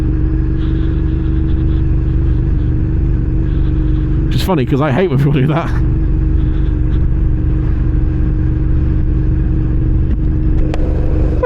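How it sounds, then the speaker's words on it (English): A 2006 Suzuki SV650S motorcycle's engine drones loudly and steadily while riding, with a constant low rumble and wind noise throughout; a rider talks briefly over it midway. "I come through a place that's nice and quiet on a loud bike."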